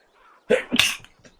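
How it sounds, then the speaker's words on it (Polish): A single sharp human sneeze, with a short inhaled buildup then a loud burst and a faint trailing breath, close and alone, from a player of the online game Runes of Magic. "aż kichnąłem z tego wrażenia"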